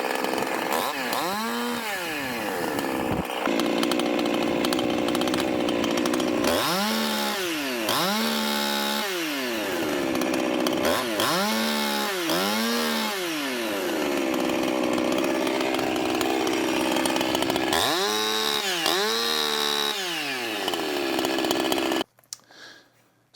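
A modified chainsaw revs freely at full throttle over and over, each loud close blast rising and falling in pitch with a rough four-stroking burble. Near the end the motor cuts off abruptly.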